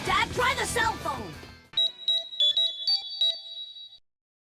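A cell phone rings in a Power Rangers Zeo episode. After shouting voices, a series of short electronic ringtone beeps sounds in an uneven melodic pattern, clear and close, then stops abruptly.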